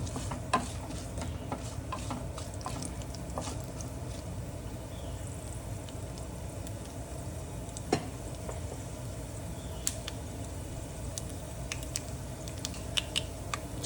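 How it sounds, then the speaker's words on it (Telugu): Cashew nuts frying in tempering oil in a pan, a steady low sizzle running throughout with occasional sharp pops and light stirring clicks, close by and without talk. "జీడిపప్పు కూడా వేగాలి కదా."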